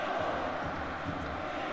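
A stadium crowd roars in a Blue Lock anime soccer match: a steady, dense wash of cheering voices holding at an even level throughout with no clear breaks.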